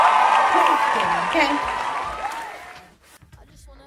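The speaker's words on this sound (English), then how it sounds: "round of applause for Shein" Canned applause and cheering burst in at full level and hold for a couple of seconds before cutting off abruptly, after which a single voice speaks briefly.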